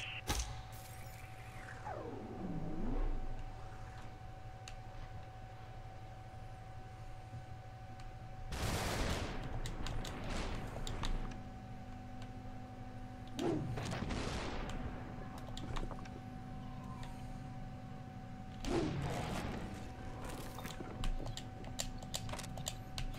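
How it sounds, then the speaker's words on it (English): Gunshots in the video game SUPERHOT, several separate bursts a few seconds apart with sweeping whooshing tails over a low steady hum and background game tones, moderately loud with no talk. "Where those other shots come from?"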